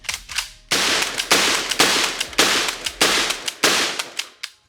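A cheap, low-rated toy-style gun fires about seven sharp, loud shots in quick succession, each crack followed by a short decay, with no talking.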